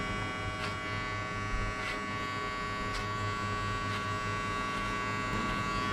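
Electric hair clippers buzz steadily and close up while shaving a mid skin fade, a constant motor hum with faint periodic strokes as they pass through the hair, with no talking.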